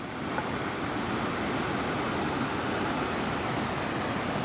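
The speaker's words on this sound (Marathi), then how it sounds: "हे बघा नदीचा ह सुंदर निर्मल पाणी नदीचं" Clear river water in a Konkan village flows with a steady, unbroken rushing hiss that stays constant and fairly loud throughout.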